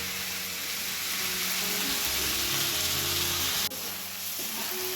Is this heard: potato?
yes